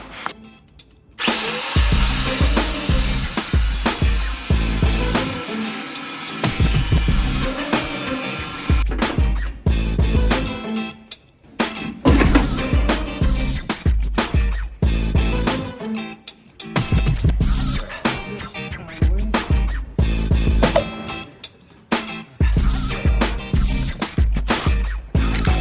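A power tool grinds loudly through a stubborn, rusted inner fender bolt on an older truck, running in long sustained bursts with brief pauses and restarts, close and dominant with no talking.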